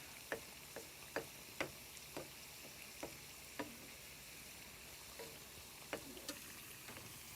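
Bajji fritters deep-fry in hot oil with a steady bubbling sizzle, punctuated by a series of sharp ticking pops and crackles at irregular intervals, close and alone without talking.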